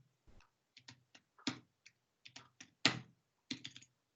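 Commands are typed on a computer keyboard to configure a Cisco switch: quiet, close, uneven clusters of key clicks with a few heavier strokes and short pauses between them.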